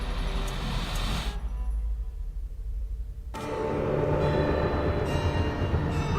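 A train running in the video game Alice: Madness Returns, a loud rumbling rattle that drops away briefly, then returns as a heavy clattering roar with a ringing metallic tone near the end.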